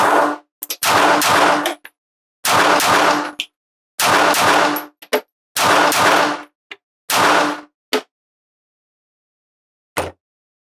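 A Sig P365 .380 pistol fires at a shooting range in a rapid string of loud, sharp shots grouped in bursts, with a final isolated shot after a pause. The reports are near and echoing, with no talking.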